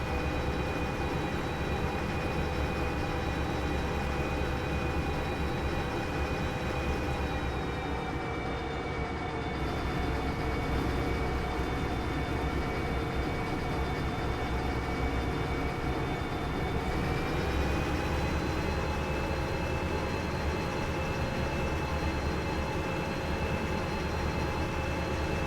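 A train in the video game Derail Valley rolls through a junction with a steady low rumble and a sustained whining tone that dips and rises in pitch, continuous throughout.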